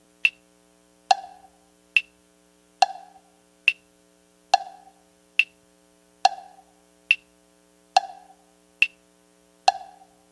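Evenly spaced percussive clicks alternate strong and weak accents, pairing into a steady two-beat meter demonstrated as a rhythm example; about a dozen crisp, close pulses roughly one second apart, sounding alone.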